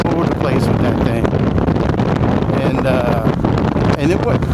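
Heavy, steady wind roar buffeting the rider on a motorcycle with a small windshield, loud and continuous throughout, with some speech partly buried under the noise.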